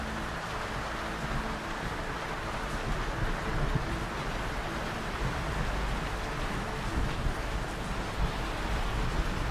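Heavy storm rain in a sailing simulator game, a steady dense wash of rainfall with low rumbling underneath, loud and continuous throughout with no speech.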